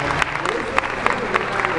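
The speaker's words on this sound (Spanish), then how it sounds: "Y ahora un aplauso para él. An applause for this guy." A short burst of audience applause at a conference event in Mexico with animator Robert Valley, many hands clapping with a few sharper claps standing out.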